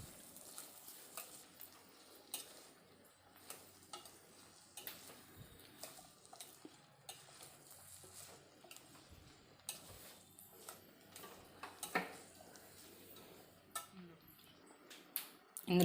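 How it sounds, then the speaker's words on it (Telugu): Drumstick pieces are stirred into onions in a pan for a milk curry, with a spoon ticking and scraping at an irregular pace over a faint background sizzle, and a few soft knocks. "ఇప్పుడు ఈ ఉల్లిపాయల్లో మనం కడిగి పెట్టుకున్న మునక్కాయ ముక్కల్ని వేసుకోవాలండి."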